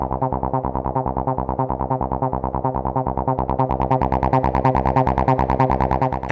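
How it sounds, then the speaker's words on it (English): A Roland TB-303 plays a repeating acid bassline at maximum volume. Its steady, fast pulse carries slight distortion, and the tone brightens and grows buzzier as the pattern continues. "the slight distortion in the sound is caused by the maximum volume of the TB-303"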